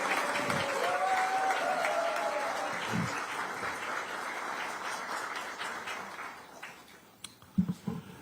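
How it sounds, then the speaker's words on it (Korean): Crowd at a Democratic Party political rally in Yeonggwang, South Korea, applauding in a dense sustained wave that slowly thins out, with a few stray claps and noises at the end. "여러분 여기서 박수 한번 보내주시죠"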